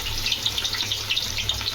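Onions dropped into hot oil for a home-cooked biryani, giving a steady crackling sizzle with bright spitting bursts throughout, close and moderately loud, with no talking.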